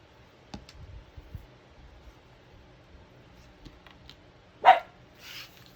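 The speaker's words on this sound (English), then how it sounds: "That's Benny having a good old bark." A dog barks indoors, a few scattered short barks early on followed by one loud, sharp bark near the end, with quiet background between.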